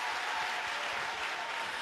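Steady, dense applause from an audience, a continuous wash of many hands clapping at even volume, slightly distant.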